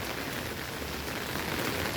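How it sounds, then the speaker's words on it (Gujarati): Rain falls steadily on a road outdoors, a dense, even hiss with no breaks and no voices. "વરસાદ ચાલુ થયો પાછો"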